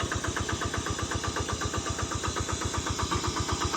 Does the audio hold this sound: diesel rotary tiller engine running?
yes